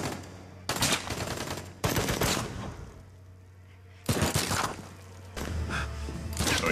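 Bursts of gunfire from an action scene in The Boys Season 1 Episode 8, loud volleys in several separate stretches over a low background score.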